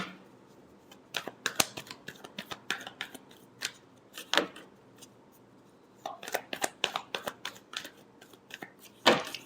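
Tarot cards are shuffled by hand in quick riffling and slapping bursts, crisp and close, with a pause midway before a second run of card flicks and a final sharp snap.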